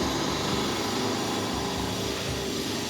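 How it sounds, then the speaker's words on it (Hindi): Construction drilling nearby during a home Janmashtami celebration, a steady broadband whirring drone that runs continuously and fairly loud throughout, with no talk over it. "आपको ड्रिलिंग की आवाज़ आ रही होगी, क्योंकि यहाँ काम चल रहा है, तो ड्रिलिंग हो रहा है।"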